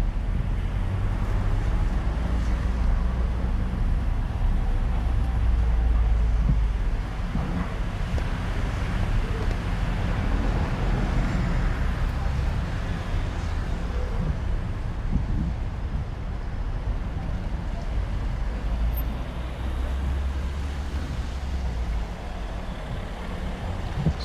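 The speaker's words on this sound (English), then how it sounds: "So even if the gas is making noise, that's what you want." A car engine hums and revs steadily during a driving lesson, a continuous low rumble heard from inside the cabin with some wind-like noise and a swell partway through.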